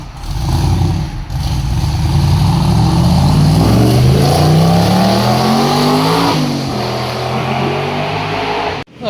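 LS V8-swapped Mazda Miata engine revving close by, loud and sustained, its pitch climbing steadily for several seconds before dropping off, with no talking.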